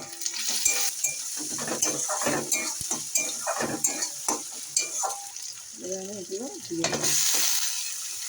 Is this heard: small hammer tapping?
no